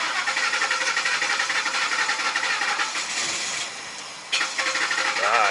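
A car engine cranks with the accelerator held to the floor in clear-flood mode, a loud, continuous, close starter whir that dips briefly near the end and then resumes without the engine catching.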